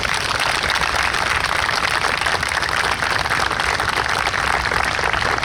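A large crowd at a New York State Police special operations exhibition applauds continuously, a dense, steady wash of clapping that stays loud throughout with no talking.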